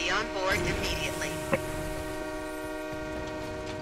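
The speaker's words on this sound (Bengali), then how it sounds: "আবার আবার চালু হবে ট্রেনটা মনে হচ্ছে।" A train in the BGMI video game sounds a sustained, steady horn tone as it gets moving, with a voice talking briefly at the start.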